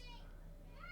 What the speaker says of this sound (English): I got kids screaming in the background